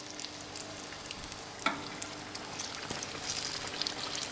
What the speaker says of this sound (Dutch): En ze frituren een minuutje of vier.